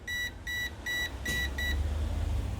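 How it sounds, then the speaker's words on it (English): An electrical voltage tester held against a live cable beeps in five short, evenly spaced bursts, loud and close, before dropping away to low background hum. "it's gonna stop beeping"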